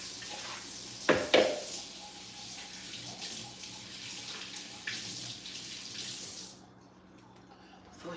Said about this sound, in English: Trying to wash my hands and stuff.